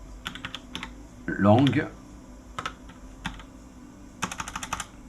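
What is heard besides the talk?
typing on a computer keyboard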